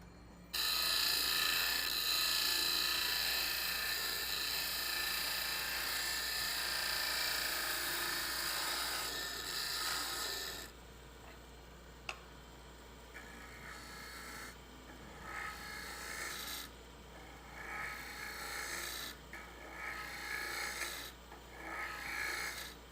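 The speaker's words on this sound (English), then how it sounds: "I'm going to take my square end scraper again. We're going to take one small cut, the bottom" A square end scraper takes a light finishing cut inside a wooden suction-fit lidded box on a lathe, a loud steady rasping hiss for about ten seconds, then a quieter scraping in short bursts over the lathe's hum.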